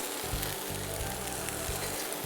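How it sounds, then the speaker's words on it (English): Food sizzles steadily in hot oil with garlic and ginger, a dense bright crackle close up, while a low hum pulses underneath. "And while we're frying, we'll just add a teaspoon of garlic and a teaspoon of ginger"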